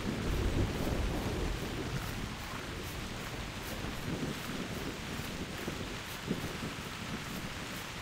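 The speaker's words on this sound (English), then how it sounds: "Turns daytime and all it does is rain." Steady rain with rolling low rumble of thunder in theHunter: Primal, a continuous wash of rainfall and wind noise with no voices.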